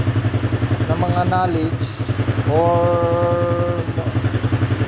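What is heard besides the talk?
motorcycle engine running after DIY troubleshooting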